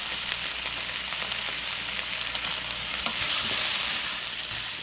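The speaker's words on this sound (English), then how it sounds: "Take a look at that stir fry" Stir fry sizzling steadily in a hot pan, a loud continuous frying hiss with occasional stirring scrapes, no voices.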